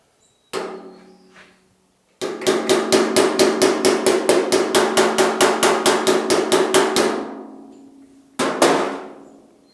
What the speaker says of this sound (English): Let me tap on this a little bit